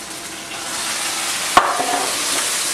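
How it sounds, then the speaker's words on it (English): Crisp crackling of roasted chicken skin, a steady fine sizzle with one sharp crack near the middle, close and fairly quiet, no talking. "See if you can hear this. That's crispy chicken."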